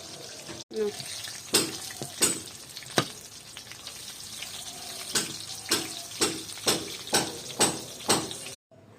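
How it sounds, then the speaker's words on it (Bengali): Stuffed pointed gourd chops fry slowly in oil over medium-low heat, giving a steady soft sizzle with a series of sharper crackling bursts spaced through it. "আর এগুলো ভেজে নেব আস্তে আস্তে।"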